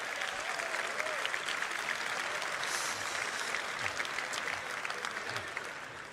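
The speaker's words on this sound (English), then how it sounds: "Wait for applause." Audience at a live presentation applauding, a dense, steady roar of clapping that holds evenly throughout and tapers slightly at the end.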